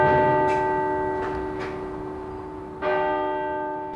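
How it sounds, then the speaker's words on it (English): Church bells rung in the clock tower at St Albans, a steady sustained ringing tone with several struck peals overlapping and decaying, fairly loud and alone with no voices. "the bells in the clock tower today are the same bells that rang out on that day"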